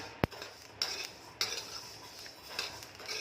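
Pearl millet (bajri) roasting in a pan for thalipeeth flour, stirred with a metal spoon: a few sharp scrapes and clinks against the pan over a faint background, close and fairly quiet, no speech.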